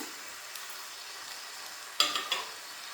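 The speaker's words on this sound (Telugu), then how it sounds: "బాగా కలుపుకొని ఒక 10 నిమిషాలు లో ఫ్లేమ్లో ఉడికించుకోవాలండి." Chicken is stirred into fried masala in a hot pan for biryani under a soft, steady sizzle, with a short burst of spoon scraping and louder frying near the end.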